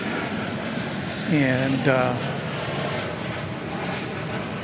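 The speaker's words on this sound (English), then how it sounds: "Looks like Japan Airlines Flight 12 is going to be coming in on runway 13 right." Japan Airlines Flight 12, a Boeing 787 Dreamliner, approaching runway 13 right at Dallas-Fort Worth Airport on a summer morning: a steady, distant broadband engine roar with a brief spoken word over it.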